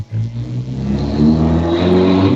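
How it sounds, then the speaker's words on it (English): Race cars in a 1966-era racing video game run with engines droning and rising in pitch, a loud, steady, layered mid-range whine building over a couple of seconds, alone without talk. "There you hear the race cars already."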